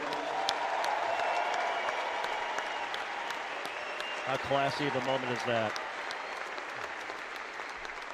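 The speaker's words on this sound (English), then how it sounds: "Big round of applause for Charlie Ward." Crowd applauding throughout as Charlie Ward's jersey is retired at an FSU men's basketball event, steady dense clapping with someone speaking over it on a PA and a brief tonal horn or music burst midway.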